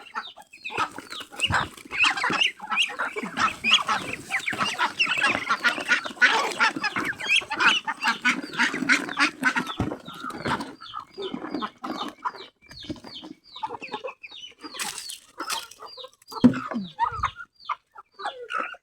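A flock of pet ducks quacks and clucks continuously while being fed, with busy overlapping calls, some loud and near, others softer, plus occasional rustling and a few sharp higher squawks.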